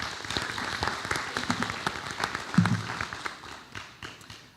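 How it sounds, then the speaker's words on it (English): Scattered applause from a school board meeting audience, a moderate patter of claps at mid distance, fairly sparse and uneven rather than a full roar. "If we can give her a round of applause."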